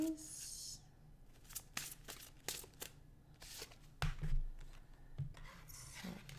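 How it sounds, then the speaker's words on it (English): A deck of cards shuffled face down in a quick run of crisp riffles and snaps, close and fairly loud, with a brief bit of low talk partway through. "Pile 2, I was definitely shuffling those upside down. That was really loud, sorry."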